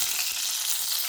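Curry leaves and whole pulao spices crackle and sizzle in hot oil for egg gravy curry, a steady bright frying hiss with no talk.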